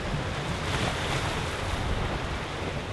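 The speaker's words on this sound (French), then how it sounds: "le son de la mer et des vagues" Sea waves at the tip of Cap d'Antibes, a broad, steady roar of surf with constant wash and some wind buffeting on the microphone, no voices.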